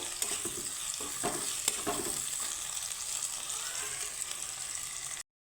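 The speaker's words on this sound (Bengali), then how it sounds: "রসুনের সাথে আমি পেঁয়াজটাকে হালকা ভেজে নেব" Sliced onion and grated garlic fry in a hot pan, a constant sizzling hiss broken by a few scraping stirs early on, close and clear with no voices.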